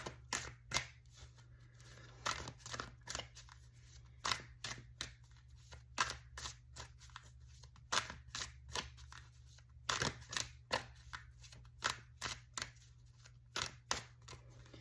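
Rapid, crisp riffling bursts of tarot cards being shuffled repeat throughout, close and quiet, over a low steady hum.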